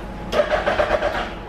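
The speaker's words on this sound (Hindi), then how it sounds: "ये मैंने चाबी ऑन कर दी, सेल्फ दबाइए भैया, इंजन किल स्विच ऑन करके।" A BMW motorcycle engine cranks over on its electric self starter, a short whirring, churning burst that catches into a rough idle, close and fairly loud with no talking.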